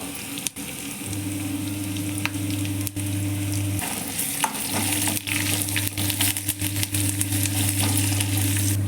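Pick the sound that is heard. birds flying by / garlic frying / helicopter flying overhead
garlic frying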